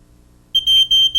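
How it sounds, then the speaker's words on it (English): Single-station smoke detector sounding a shrill, piercing electronic tone in short pulses after a near-silent start, loud and close with no other sounds. "put this one back in even though it's chirping."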